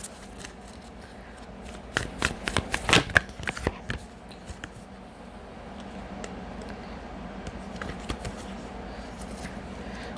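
A deck of Angels and Ancestors oracle cards is shuffled by hand, giving a crisp flurry of riffling clicks and snaps near the start, then settling into a softer hiss.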